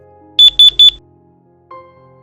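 A LifeMax A01.2 voice alert fall alarm gives three sharp, loud high beeps in quick succession, then a softer lower tone after a short pause. No voice is heard.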